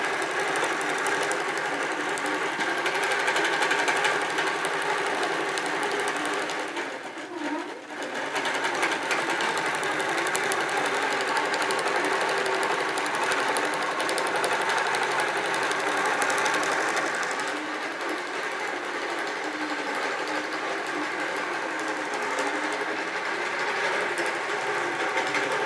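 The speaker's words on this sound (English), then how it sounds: "I'll show you how I'm going to sew one of the blocks" Sewing machine stitching quilt blocks for a kaleidoscope quilt, running as a steady, loud continuous whir with a brief slowdown partway through, no talking.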